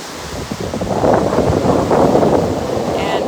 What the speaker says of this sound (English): Here live on Sanibel Island at the beachfront in front of Ocean's Reach